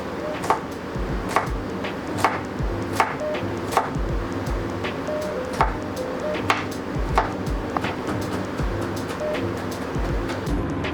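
Garlic being chopped on a cutting board, a steady run of sharp knife taps at an uneven rhythm, close and clear over a constant background hum.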